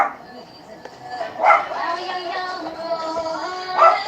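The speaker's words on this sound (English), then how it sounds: "Sorry about the dog." Indoors, a dog lets out two distinct barks, one early and one near the end, over a continuous background of voice or singing.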